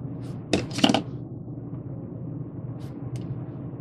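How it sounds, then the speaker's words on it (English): Snipping off a rubber band end cap on a Rainbow Loom bracelet: two quick close snips, then a faint click later, over a steady low room hum. "I'm actually going to cut off the end cap I put on"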